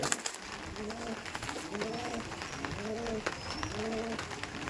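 Pigeons of the Pakistani Chotiyal breed coo in a loft, repeated low rolling coos arriving in regular bursts about once a second, fairly close, over a steady hiss of background noise with no talking.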